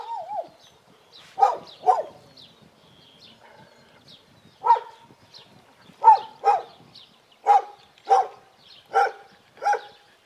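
Dogs at an animal sanctuary bark in short, sharp, fairly close bursts, around ten barks at irregular intervals, with a whine at the start and quiet gaps between.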